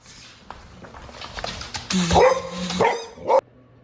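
A dog barks a few loud, close times amid a tornado warning, the sharp yelps bunched together after some background shuffling and brief murmuring.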